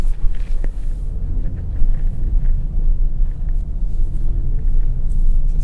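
A 2023 Nissan Pathfinder Rock Creek in racetrack mode produces a steady low engine and road rumble from inside the cabin, with no voices.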